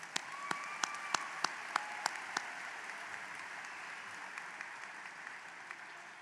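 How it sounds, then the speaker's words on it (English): Scattered, faint applause from a high school graduation audience for retiring staff, a few distinct claps standing out early, then thinning into a soft, distant patter. "You can clap one more time. They're retiring."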